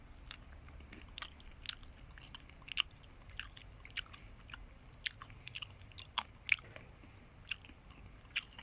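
Someone bites and chews a raw Hall's Giant hazelnut. The crisp, close crunches and snaps come at an irregular pace over a quiet background, with no talking.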